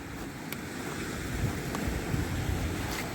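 Sea waves wash steadily onto a rocky beach on the coast near Macduff and Banff, a continuous surf hiss with gusts of wind buffeting the microphone and no voices.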